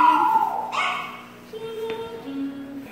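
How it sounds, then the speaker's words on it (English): Dogs whine and yip close by indoors, with a high whimper at first and then softer drawn-out whines over a quiet room hum. "Stop playing with the dogs."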